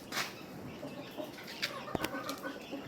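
Roundhead hens in a pen give soft, scattered clucks and a brief wing flap, quiet and intermittent against low background noise.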